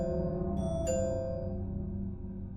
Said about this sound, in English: Doorbell sound.